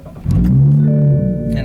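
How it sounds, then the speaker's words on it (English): A tuned 2015 BMW M235i xDrive with a louder-than-stock full exhaust fires up via push button, a quick crank into a loud, throaty roar that settles into a deep idle drone, close by. "hit the engine start button,"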